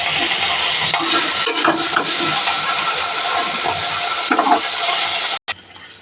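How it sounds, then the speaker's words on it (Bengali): Cauliflower frying in hot oil in a wok gives a steady, close sizzling hiss with crackling bursts and brief spits, ending with a sudden break. "ফুলকপিটা আমি ভালো করে ভেজে নেবো।"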